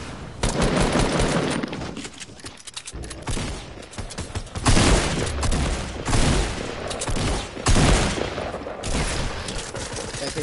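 Rapid bursts of gunfire in the Fortnite video game crackle loudly in several volleys, with brief lulls between bursts and sustained intense shooting throughout.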